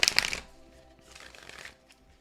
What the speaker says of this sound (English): I'm going to shuffle the cards and pull a card from the Mystical Shaman Oracle deck